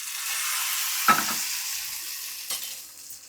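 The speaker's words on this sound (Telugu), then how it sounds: "ఎండుమిరగాయలు చూడండి ఎంత బాగున్నాయో ఆ విధంగా ఫ్రై అవ్వాలండి" Dried red chillies fry in hot oil for a tempering, giving a steady bright sizzle with two sharp stirring clatters partway through. No voices are heard.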